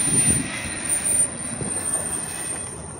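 A Union Pacific freight train at the Union Pacific yard in Fresno, California rumbles steadily nearby with a high, thin squeal of wheels running over the top, a continuous loud rolling sound with no voices.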